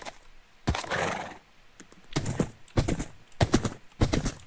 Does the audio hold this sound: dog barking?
no